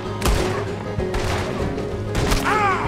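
Gunfire in Red Dead Redemption II during a prison breakout, with a few loud sharp shots and impacts a second or so apart, each decaying into a rumbling tail.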